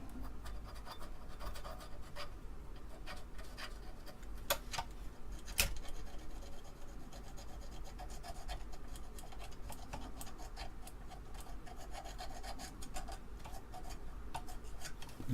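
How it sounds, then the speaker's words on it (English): A small screwdriver scrapes old heatsink compound off a part from an Atari SC1224 monitor, producing faint, close, continuous scratching with scattered sharp ticks and taps. "let me find a little screwdriver that I can use to just clean some of that off out of there with"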